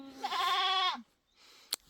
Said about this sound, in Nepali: हाम्रो बाख्राहरू देख्न सक्नुहुन्छ।